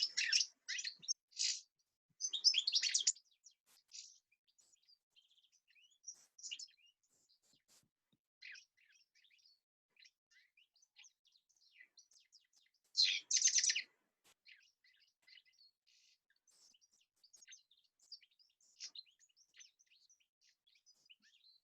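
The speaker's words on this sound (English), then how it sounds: "Some of you will already know I'm talking about the goldfinch." A goldfinch sings a continuous, chattering and tinkling song of quick high notes, with a few louder bursts of twittering, fairly close and alone against quiet.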